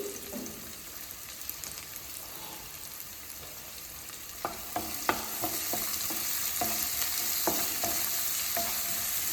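Onions sizzle in a pan with salt in a Telugu home kitchen, a steady close frying hiss broken by a run of sharp clicks as a spoon stirs and scrapes the pan.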